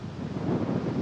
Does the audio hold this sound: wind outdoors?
yes